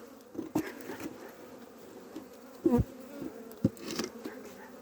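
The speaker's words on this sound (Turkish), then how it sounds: "Evet burada az bir arı var." Bees buzzing steadily nearby during a winter hive change, with a few louder passes as individual insects fly close to the ear, no voices.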